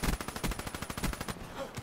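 Rapid automatic gunfire in Black Ops 3, a steady stream of close, evenly spaced shots that tapers off near the end.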